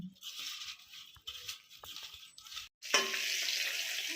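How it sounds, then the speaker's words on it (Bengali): Eggs sizzle steadily in a pan of hot oil for an egg curry, with short clinks and scrapes of stirring, a brief pause, then a louder burst of frying. "ডিমগুলো ভালো করে ভেজে নিয়েছি"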